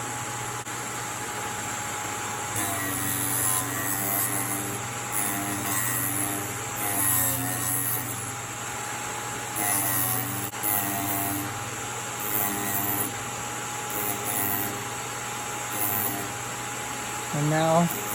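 A drill bit sharpener's electric motor running steadily with no grinding, a constant whirring hum throughout, fairly loud and close, with slight fluctuations as the unit is handled.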